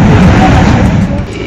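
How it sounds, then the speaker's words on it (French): Sea blowhole near Teahupoo, Tahiti, blasting: a brief, loud, broad whoosh of forced air and spray that fades out quickly. "c'est le trou du souffleur"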